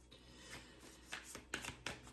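Tarot cards being shuffled by hand, a quiet run of papery riffles and soft slaps in an irregular rhythm, close up with no talking.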